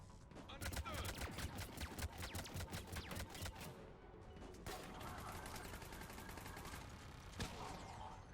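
Turret gunfire from the Mass Effect 3 video game rattles in rapid bursts on Insanity difficulty, with bursts of shots and scattered mechanical clanks at moderate volume.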